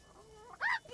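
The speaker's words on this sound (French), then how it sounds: "Un peu bizarre de se taper des poulets là." In the video game Le Donjon de Naheulbeuk, a chicken gives a single short, nasal squawk, close and fairly loud, near the end of a quiet stretch with a faint tonal background.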